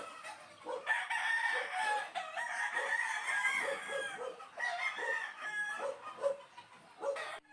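Gamecock roosters crow repeatedly at close range, long strained calls overlapping with bursts of clucking that run continuously through the moment without any talking.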